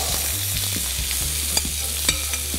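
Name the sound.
tossing almond flakes in olive oil in a hot pan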